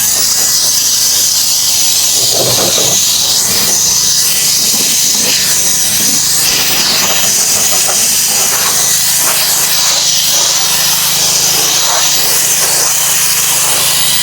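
A WolfBox MegaFlow 400 (MF400) portable air blower blasts cobwebs off a porch, making a loud, continuous hissing rush of air that stays steady and close throughout, with no voices.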